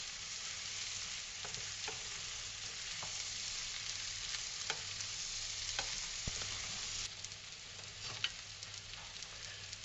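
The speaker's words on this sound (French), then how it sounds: "Je mélange pour que le riz s'imprègne un peu des jus des courgettes mais aussi du beurre." Rice stirred in a pan with butter and zucchini juices gives a steady close sizzle with scattered soft spoon clicks and scrapes throughout, no voices.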